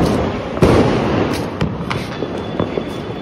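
Diwali sky shot fireworks bursting overhead outdoors, a series of loud sharp cracks and pops spaced irregularly over a noisy crowd background.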